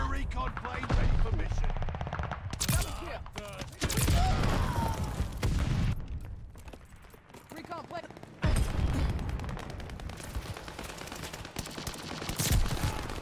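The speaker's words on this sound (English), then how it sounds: "One shot with the M1916." M1916 rifle shots in the shooter game Call of Duty: Vanguard, loud sharp gunfire bursts and single cracks scattered across the match, mixed with other in-game effects and a player talking over them.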